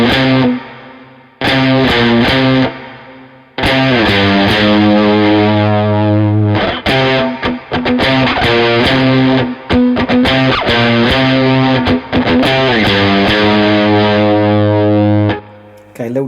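A distorted electric guitar picks out a riff on a single string, with chunky repeated hits, short pauses and sustained notes, loud and close with no voices.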